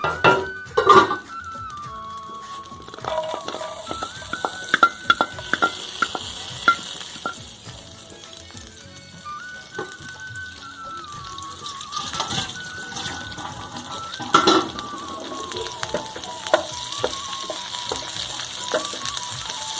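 Garlic going into hot ghee in a pan for urad dal, with clattering utensils and metal scrapes over a soft sizzle, busy and close, no talking.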